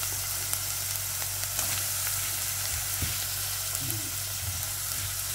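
Chicken balls sizzle steadily in a hot pan, a constant loud frying hiss with a few soft stirring knocks.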